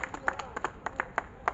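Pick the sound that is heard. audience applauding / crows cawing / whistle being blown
audience applauding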